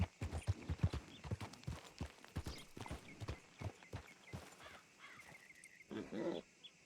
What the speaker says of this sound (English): Can you just not feed random horses?